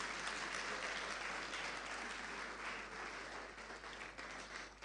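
An audience applauds after a speech at a tech week event in Nigeria, a dense, continuous wash of clapping at moderate distance that holds steady throughout.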